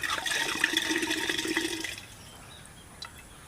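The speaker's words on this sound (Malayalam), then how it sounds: "വെള്ളം ഒഴിച്ച് കൊടുക്കാൻ പോവാണ്" Water pours onto chopped pineapple in a container for homemade nonalcoholic pineapple wine, a steady close splashing gush for about two seconds that then stops, leaving a quiet room with a faint drip.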